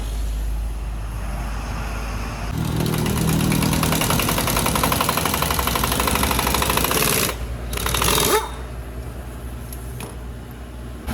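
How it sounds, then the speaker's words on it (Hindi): A car engine running with no oil makes a loud, harsh, rattling knock that grows heavier midway, then cuts out briefly before a quieter hum resumes. "दिन इसको मैंने चलाया, इंजन काफ़ी आवाज़ दे रहा है।"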